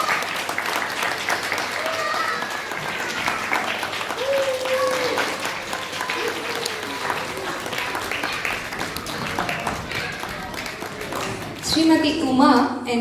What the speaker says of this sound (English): Big round of applause for Srimati Uma Rajasekharani,